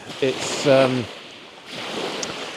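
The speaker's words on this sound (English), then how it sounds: "That's literally the lake washing up like we're at the seaside." Wind-driven lake water washes against the shore in a soft, steady rush with buffeting wind noise, beneath a brief burst of speech at the start.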